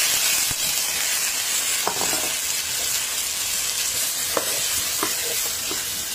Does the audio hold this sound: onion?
yes